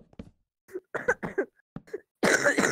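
Several coughs in quick succession during a Minecraft building livestream, the final one loud and harsh, with short gaps between bursts; no talk alongside.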